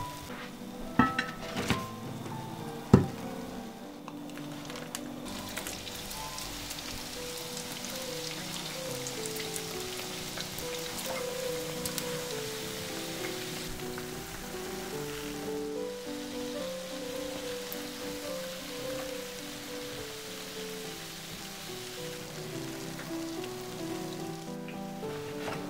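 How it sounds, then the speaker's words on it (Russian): Fluffy, crispy doughnuts frying in hot oil, a steady close sizzle and bubbling hiss throughout, with a few sharp clinks of utensils early on and no talking. "Прожариваем с каждой стороны до золотистого цвета и переворачиваем."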